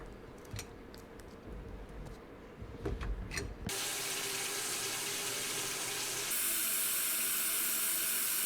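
Water from a newly installed kitchen tap runs steadily into a sink during a home renovation, starting abruptly after a few quiet seconds of handling and growing louder and brighter as the flow increases, with no one talking.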